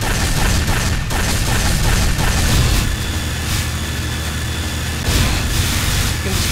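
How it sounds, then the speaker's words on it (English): Gunfire and a rigid object breaking apart in an Unreal Development Kit game level, a loud continuous barrage of booming blasts and bursts with brief lulls, no talking. "you can destroy the whole thing simply by just shooting at it"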